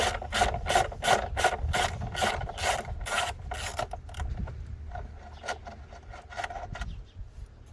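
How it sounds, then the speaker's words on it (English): A ratchet wrench with a 10mm socket turns a nut on a 2015+ EcoBoost Mustang engine bay, giving a quick run of evenly spaced, close clicks, then slower scattered clicks as the turning eases. "now you're going to need your 10mm socket for a nut in this corner."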